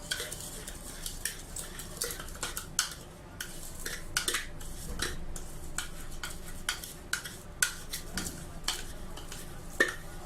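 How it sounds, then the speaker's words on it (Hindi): Spices and crushed plus Kashmiri red chili stirred together in a bowl for achari pickle masala, giving repeated close scraping and clinking of a spoon against the bowl in an irregular rhythm, with no talking. "अब इसको अच्छी तरह मिक्स कर लें।"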